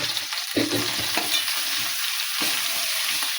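Fresh green chickpea curry with mustard seeds, garlic and curry leaves sizzling in a pan while being stirred, a close continuous frying hiss with a few scraping spoon strokes.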